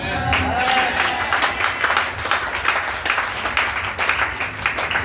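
A church congregation applauds and cheers, with loud sustained clapping and shouts filling the space and voices calling out over it.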